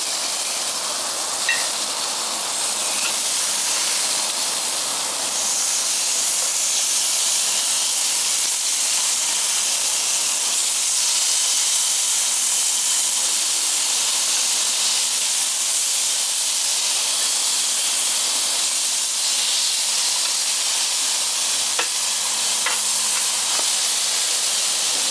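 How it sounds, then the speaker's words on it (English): Thick steaks sizzle on a Weber Q grill, a steady, loud broadband hiss holding evenly throughout with faint crackles and no talking. "hear that sizzling?"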